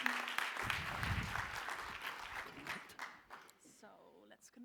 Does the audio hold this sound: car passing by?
no